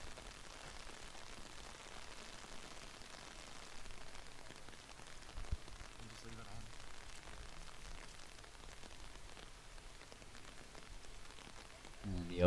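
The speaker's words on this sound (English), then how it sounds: "the rain picked up and the wind definitely picked up when it started raining" Torrential rain pours down steadily across an outdoor disc golf course, a dense continuous hiss of drops that stays at an even, moderately loud level with wind mixed in and a brief sharper knock near the end.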